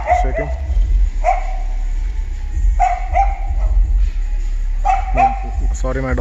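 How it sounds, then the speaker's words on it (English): A dog barks in a few short, sharp bursts, with a whimpering yip near the end. It carries over a constant, heavy low bass drone from a car's pair of subwoofers playing loudly nearby. "Sorry, my dog is barking."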